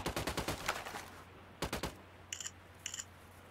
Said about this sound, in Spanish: Disparando al enemigo.